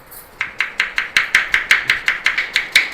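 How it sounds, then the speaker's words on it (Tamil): Onions being chopped on a board, a quick run of about fourteen crisp, evenly spaced knife chops, close and clear with no talking. "வெங்காயம் வெட்டும் முறை"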